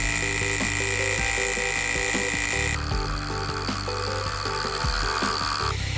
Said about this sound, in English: I cut off a piece of stock and started the job by squaring it up on the mill.